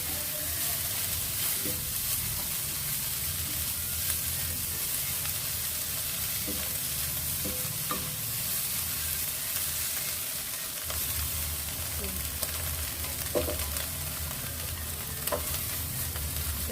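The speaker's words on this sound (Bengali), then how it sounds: "প্রথমে আমি সয়াবিন আর আলুটা ফ্রাই করে নিচ্ছি" Soybean chunks and potatoes fry in hot oil with a steady, dense sizzle. Occasional stirring knocks and scrapes come through without pause.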